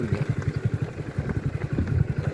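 A motorcycle engine putters steadily on a rough road damaged by water near the Machchhu dam in Morbi, a close, rhythmic mid-pitched throb with no voices.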